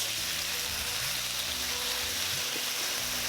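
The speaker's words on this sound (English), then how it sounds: "Add the beef slices. Stir fry for about a minute." Beef slices sizzle in a hot pan while being stir-fried for a Japanese beef udon, with a continuous loud crackle and hiss and faint thuds of stirring underneath.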